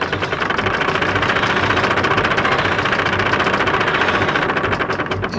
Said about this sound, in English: you control the wheel now, Wendy. Why don't you give it a spin